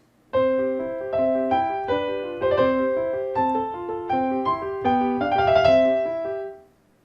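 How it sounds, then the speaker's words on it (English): Solo piano plays a bright, flowing Mozart sonata melody over a steady accompaniment, clear and close, ending as the last notes fade out. "This is a popular piano sonata by Mozart."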